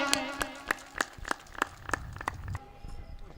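Audience at a mushaira and kavi sammelan poetry gathering in Fatehpur Sikri claps in a few sharp, scattered bursts that fade out, with a faint voice in the background.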